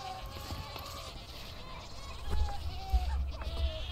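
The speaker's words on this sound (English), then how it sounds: "Just hearing screaming goats." Goats bleat and cry out repeatedly over a busy, buzzing soundscape in the video game WildCraft, with several overlapping calls of moderate loudness.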